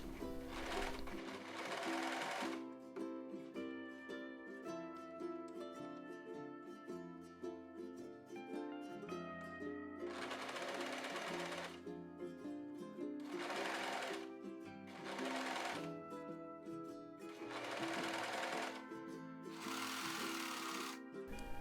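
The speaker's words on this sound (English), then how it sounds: "Start serging from one neck point and finish at the other neck point." A serger overlocks the edge of a linen top, running in long continuous bursts of steady, rapid mechanical stitching with brief pauses between runs, loud and close, with no talking.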